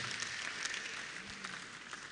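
An audience at an engineering faculty's 30th anniversary event applauds in a steady, dense wash of clapping that holds evenly throughout, heard from within the hall.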